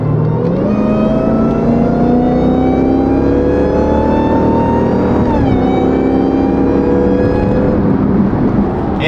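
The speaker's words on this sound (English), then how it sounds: "track mode definitely wakes up the throttle response" Twin turbo Lamborghini pulling hard in track mode, a loud, close engine note climbing steadily through the gears with a brief shift dip midway, continuous and without talk.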